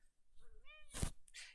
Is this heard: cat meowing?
yes